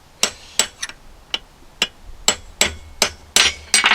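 Hammer blows on a smaller punch while rebuilding a rusty New Holland 56/256 hay rake gearbox: about ten sharp metallic strikes in an uneven rhythm, close and loud, with no talking.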